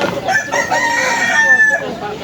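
A rooster crows in one long, loud call lasting about two seconds, its harmonic cry close by and steady, with faint talk in the background.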